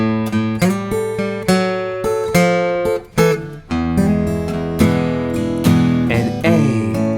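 Electric or acoustic guitar plays a blues verse instrumentally, loud and close, with a steady strummed rhythm of chord changes and a short pause partway through, no voices.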